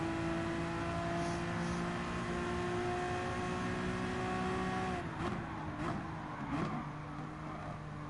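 Race car engine in GT Sport during an endurance race, a steady high whining drone held at constant pitch, then falling and wavering with brief bursts as the car slows, moderately quiet with no talk.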